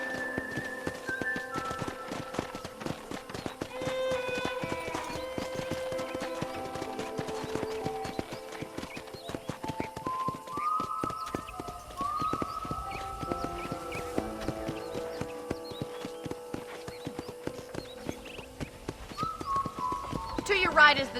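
Horse hooves clip-clop at a steady trot in a Red Dead Redemption ranch scene, heard under talk and light background music, with a short whistle near the end.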